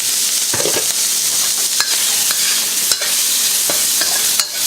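Pork belly and garlic stir-frying over high heat in a pan, a loud continuous sizzle close up, punctuated by several sharp scrapes and clatters of the spatula.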